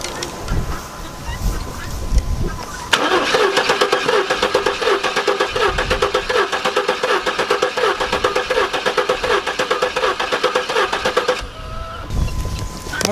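A 1996 GMC Sonoma truck that sat for six years is cranked for about eight seconds, its starter churning steadily in a rhythmic whir without the engine catching, with quiet handling noise before and after.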